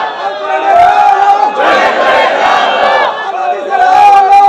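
A large crowd at an Islamic waz sermon gathering shouts the takbir together in loud unison, a massed roar of voices rising in the middle between stretches of a preacher's amplified speech.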